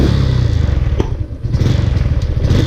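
A Honda Wave 110i with a broken crankshaft end idles loudly up close while the rider works the gear shift, and one clunk of the shifter cuts through the steady engine putter.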